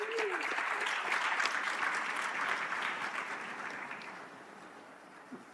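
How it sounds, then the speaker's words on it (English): A summit audience applauds a panelist taking the stage, a full burst of clapping that swells early, then gradually thins and fades, with a brief voice at the start. "Can we give her a round of applause?"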